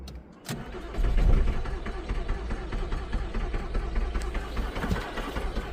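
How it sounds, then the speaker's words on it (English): A Volkswagen Polo engine turns over repeatedly, a steady churning crank that never catches, close and loud from start to finish with no voices. "I did actually crank over the engine to see if it would start or fire up at all"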